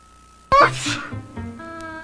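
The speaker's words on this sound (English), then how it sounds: "You sneeze, your nose runs." A single loud, close sneeze from a person with a head cold bursts out suddenly and then trails off, followed by quiet voiced sounds and background music.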